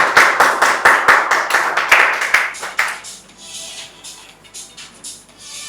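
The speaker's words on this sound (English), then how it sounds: "Give her a round of applause." Brisk round of applause at a Toastmasters club meeting for a speaker, loud and dense for about three seconds, then thinning into scattered quieter claps.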